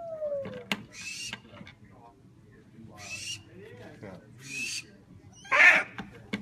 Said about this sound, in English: Owl temper tantrum coming up.